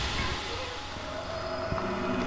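An angel enemy in the video game Dark Souls 3 gives off a steady droning noise with faint sustained tones, layered over a continuous rumbling ambience for the whole stretch.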